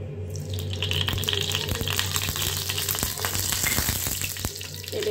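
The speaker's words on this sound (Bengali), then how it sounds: "তেল দিয়ে দিলাম।" Oil poured into a hot frying pan at the start of an egg recipe, with a steady, close sizzle and crackle running throughout and no talking.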